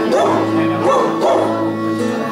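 Children's voices in the Catalan song "Tenia un gall" imitate a little dog barking, singing loud, close, rhythmic bark-like syllables in about three pulses over musical accompaniment.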